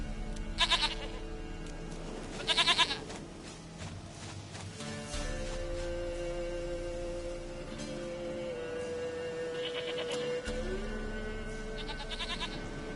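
A goat in a fantasy video game bleats twice in quick sharp calls near the start, then again later, over a quiet ambient music bed with low tones.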